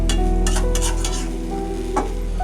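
Gourd peel and potato bhaji stirred in a pan, a few soft scraping strokes over a low steady sizzle with faint utensil clinks, close and alone.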